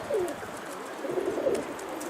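Pigeons coo softly and repeatedly over a steady outdoor background, a couple of low rolling calls close by.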